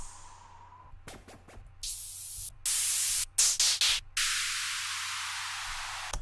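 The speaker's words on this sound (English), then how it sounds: "Let's do white noise. Downlifter." A white noise downlifter effect for an EDM bass house track, heard as loud broadband hissing bursts that start and cut off abruptly, with several short stutters, then a long sustained wash to the end.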